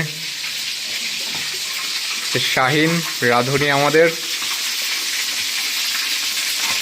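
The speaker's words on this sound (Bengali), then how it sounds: "কিসের যেন শব্দ শোনা যাচ্ছে মনে হচ্ছে তেলে কিছু ভাজা হচ্ছে" Chicken drumsticks fry in hot oil, making a loud, steady hiss and crackle throughout, while a person speaks briefly near the middle.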